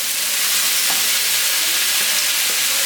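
Tomatoes and cilantro hitting translucent frying onions in a pan for charro beans, giving a loud steady hiss of sizzling with faint stirring clicks and no talking.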